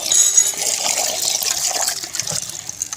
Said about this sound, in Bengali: এটা হচ্ছে আমাদের এখানে কল চেপে আমি চালগুলো ধুচ্ছি।